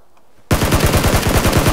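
Sudden loud burst of rapid automatic gunfire in a video game, a fast, evenly spaced string of shots that starts abruptly after near silence and continues to the end.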